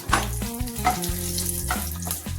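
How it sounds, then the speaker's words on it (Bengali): Cumin seeds, two dried chillies and two bay leaves frying in hot oil for a spicy elephant foot yam and prawn curry, a close crackling sizzle with a few stirring clatters, under a steady low hum. "গোটা জিরে, হালকা ফ্রাই করে নিয়ে দিয়ে দিলাম 2টো শুকনো লঙ্কা আর 2টো তেজপাতা"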